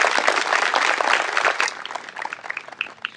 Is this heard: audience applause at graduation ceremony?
yes